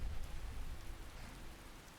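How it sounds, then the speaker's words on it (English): Steady rain falling in the video game Skyrim, a continuous, fairly loud hiss and patter with a low rumbling undertone and no speech. "It's rainy."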